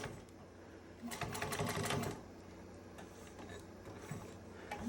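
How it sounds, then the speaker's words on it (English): A sewing machine stitches down fabric pieces on the inside of a bag, its quick rattling run loudest for about a second in the middle and then continuing more softly in short bursts. "I'm going to sew these down."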